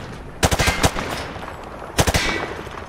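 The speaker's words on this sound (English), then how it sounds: "Grab that weapon off the table and fire at the targets behind you." A weapon fired at range targets in Call of Duty Modern Warfare 2 Remastered lets off two quick bursts of automatic gunfire, sharp and loud, separated by a short pause.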